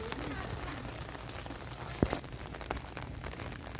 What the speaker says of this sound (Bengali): একেবারে ঝমঝম করে বৃষ্টি সেখান থেকে কন্টিনিউ বৃষ্টি সারা রাত বৃষ্টি